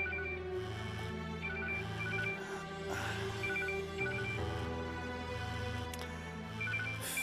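A telephone rings in a TV drama scene, the repeating bursts sitting under a continuous bed of music that plays throughout.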